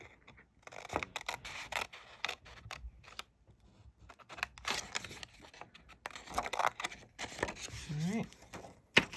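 Scissors cut through paper for handmade mini books, a few short crisp snips and scraping rustles mixed with quiet handling noises at close range.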